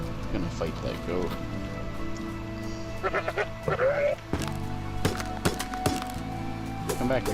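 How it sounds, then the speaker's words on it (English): A goat in the game Romestead bleats several times in short, wavering cries against a steady patter like rain, with footsteps and clatter from play, and a voice talking intermittently. "Gonna fight that goat."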